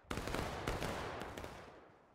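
Musket volley fired by a line of infantry in War of Rights, a ragged crackle of many shots bunched together within a second or so, then an echoing rumble fading away, heard at a moderate distance.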